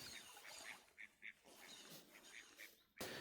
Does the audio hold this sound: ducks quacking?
yes